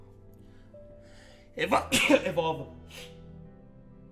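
One sharp sneeze bursts out from a sick person close by, loud against a quiet room, with a brief spoken phrase just before it.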